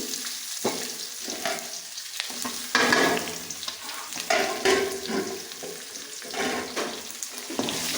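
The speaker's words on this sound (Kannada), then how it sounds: "ಅವೆರಡನ್ನೂ ಕ್ಲೀನಾಗಿ ಬಾಡಿಸ್ಕೊಂಡು ಆಮೇಲೆ ಟೊಮೊಟೊನ ಹಾಕೊಂಡ್ರು" Onions and green chilies sauté with curry leaves in a hot pan, giving a steady, close sizzle broken by several louder bursts as the mixture is stirred and tossed.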